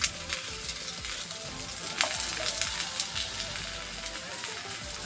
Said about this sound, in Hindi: और अच्छे से घी लगा के सेक लेते हैं।